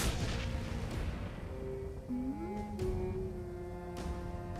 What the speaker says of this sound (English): Grenade launcher, go!